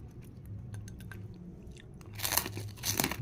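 Crunchy fried beef skin chicharon being bitten and chewed up close, soft steady munching that swells into louder crisp crunches near the end.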